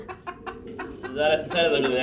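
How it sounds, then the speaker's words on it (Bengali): Fancy chickens at a pigeon farm, a short run of close clucks that rises into a louder drawn-out call near the end, with faint voices in the background. "মুরগ দেখতে পাচ্ছেন, ডানেরটা বামেরটা মাদি।"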